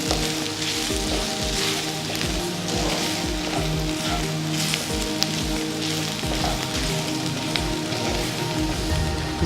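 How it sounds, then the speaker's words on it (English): Lamb fries in a pan as flour is stirred in, a dense constant sizzle and crackle like rain on a surface, with steady stirring and no voice heard. "So we add some flour, stirring."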